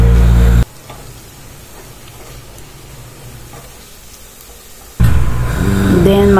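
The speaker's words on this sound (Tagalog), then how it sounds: "Then continue stirring para ma-well coat po ang ating nilagay na mga ingredients." Ingredients and flour sizzle in a hot pan as they are stirred to coat. A loud frying hiss opens and closes the stretch, with a softer, steady sizzle and light scraping between.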